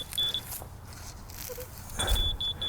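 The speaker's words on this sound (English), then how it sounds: "The slow beep means we're getting out of spec." Box blade leveling device giving a slow series of faint, high electronic beeps, a short burst at first and a longer repeating run later, over low outdoor rumble.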